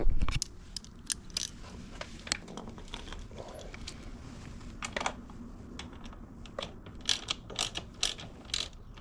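A ratchet tightens a nut on a 2025 KTM 500 EXC-F motorcycle during a tire change, giving close, crisp clicking bursts in irregular runs with short gaps, alone and fairly quiet.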